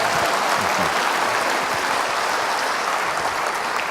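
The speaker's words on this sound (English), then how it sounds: "Could we have another round of applause for Joe Donaldson?" Sustained audience applause at a teacher appreciation event, a thick, even roar of many hands clapping, loud and unbroken for the whole stretch.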